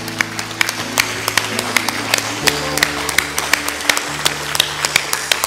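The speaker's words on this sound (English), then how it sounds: "would you just clap and shout to God for the victory over your life?" A church congregation claps steadily with scattered shouts beneath sustained music and a speaking voice, the dense applause holding loud and close for several seconds.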